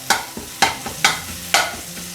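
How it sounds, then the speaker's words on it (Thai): A spatula scrapes pounded chilies around a hot pan in four rhythmic, evenly spaced strokes over a low sizzle, close up and without speech. "ผมก็จะผัดพริกของเราให้หอมก่อนนะครับ ผัดลงไปเลยครับ"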